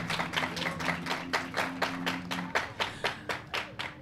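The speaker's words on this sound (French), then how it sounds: "Et je vais vous demander encore de vous applaudir," Rhythmic clapping from a small studio audience of young people at a televised debate in Bobo-Dioulasso, even and steady, with a low hum running under it at first.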